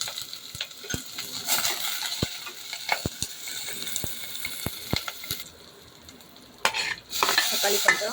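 Onion and green chili frying in oil with popped mustard seeds and urad dal, a steady sizzle with repeated sharp spoon scrapes against the pan, briefly dropping quieter before the frying surges back.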